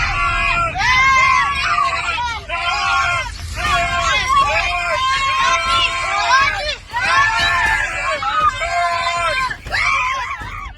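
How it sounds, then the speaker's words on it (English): Passengers on a safari jeep in the African savanna screaming in panic as an elephant chases them, loud continuous shrieks and yells in bursts over rumbling vehicle noise. "Passengers screaming like they're on a roller coaster from hell."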